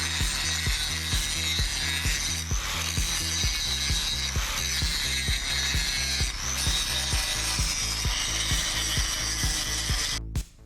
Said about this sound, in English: It's time for grinding.